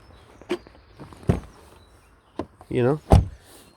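A 2011 Audi A8 with keyless entry locks its doors: several short clunks and actuator thuds spread across a few seconds, one brief whirring motor sound among them, close by with light background noise.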